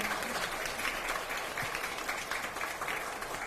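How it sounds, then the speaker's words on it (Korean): A crowd at a People Power Party joint vision rally in Daegu-Gyeongbuk applauds steadily, a thick continuous roar of clapping from many hands, loud and even throughout, with no speech. "큰 감사의 박수 부탁드리겠습니다"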